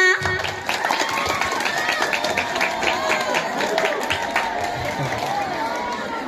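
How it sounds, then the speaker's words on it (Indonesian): Audience applause and cheering for a student council (OSIS) candidate at a junior high school campaign debate, steady crowd noise over about six seconds with voices mixed in. "Tepuk tangan sekali lagi untuk kandidat nomor 2."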